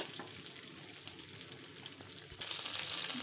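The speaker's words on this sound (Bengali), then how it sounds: "দিয়ে এটাকে আমি এখন সুন্দর করে একদম লাল লাল করে ভেজে নেব।" Chicken legs frying in a pan with red chili powder, making a steady close sizzle with stirring, which gets louder and brighter near the end as the pan hisses harder, with no talk.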